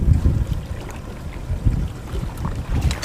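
Strong wind gusting over open water around a small fishing boat with its motor off, a steady low rushing roar that swells and eases, with no voices.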